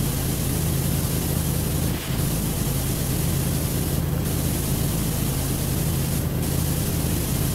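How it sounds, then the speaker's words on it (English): A Prime Vista Pro professional power washer in Power Wash Simulator hisses in a steady, loud, broadband spray that runs continuously, broken only by a brief dip and a few faint interruptions. "This is the Prime Vista Pro. It's a professional duty washer"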